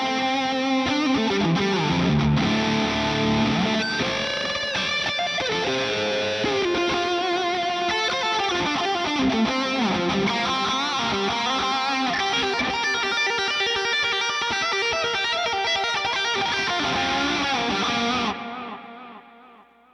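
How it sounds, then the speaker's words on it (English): An electric guitar with a high-gain distorted lead tone, drenched in delay and reverb, plays sustained singing notes and runs continuously before the sound cuts off and tails away near the end. "We have a pretty high gain tone. We're gonna do some little lead stuff with delays and reverb."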